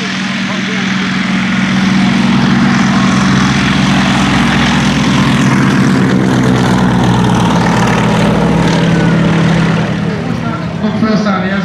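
Smelák agricultural propeller airplane taking off at an air show, a loud droning engine and propeller roar rising and holding steady nearby, with a voice speaking over it.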